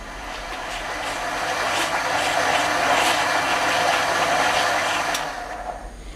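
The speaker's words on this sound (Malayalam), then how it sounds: "ഇത് നന്നായിട്ട് അരച്ചെടുക്കണം." A kitchen mixer grinder purées ripe jackfruit with a loud, steady motor whir that swells, holds, then winds down near the end.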